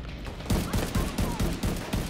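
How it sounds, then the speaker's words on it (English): Enemy launcher fire in The Division 2, a rapid series of loud, sharp gunfire bursts repeating roughly every quarter second with a steady rhythm, close and dense, with no talk over it. "what are those launchers that he's firing at me?"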